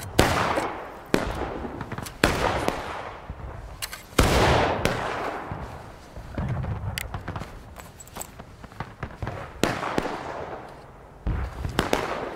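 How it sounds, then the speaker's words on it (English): Repeated volleys of musket gunfire in a skirmish video game, several loud sharp cracks spaced about a second apart with rolling echoes between, including one especially heavy blast, with no talk over them. "Take aim towards north point northwest. Call when stable. Fire!"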